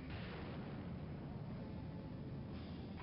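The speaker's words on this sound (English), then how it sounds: "Some more dynamo missiles." Missiles exploding in the PC game Fury 3, a dense, continuous roar of blasts and rumbling bursts that fills the whole stretch with no pause.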